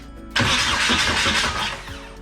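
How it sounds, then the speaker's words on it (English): A car engine cranks briefly and then catches, roaring loudly and steadily close by before settling slightly. "So I'm going to just spin the engine over real quick."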